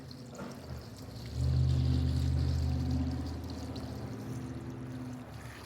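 Liquid pours steadily into a container to submerge grimy LS engine valve covers for soaking, a gushing stream swelling loud after a second, then easing into a softer trickle.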